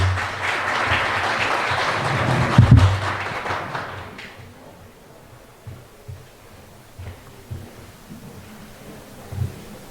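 An audience at a commemorative program applauds as a lawyer and association president is invited to the podium, a loud burst of clapping that fades after a few seconds, leaving scattered thumps and footsteps.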